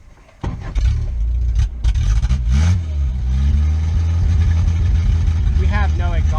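A 1977 Toyota Celica RA29 with a carburetor problem and no exhaust fitted, its engine starting loud and close and rumbling unevenly with blips of revving, people talking over it.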